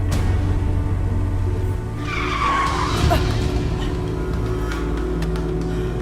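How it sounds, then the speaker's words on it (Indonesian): A car brakes suddenly, and a short tire skid and squeal cuts through a steady engine drone around two to three seconds in, fairly close and without speech. "Kenapa ngerem mendadak begini?"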